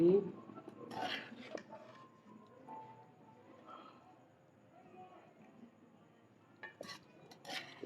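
Aloo katli, spiced potato slices cooked with tamarind, being served from a pan onto a dish: scattered metal clinks and scrapes of a utensil at the start and again near the end, with quieter handling between.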